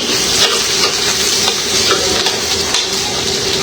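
Garlic and onion sauté in a hot pan for kaldereta, a loud, steady sizzle with stirring that runs without a break and has no talk.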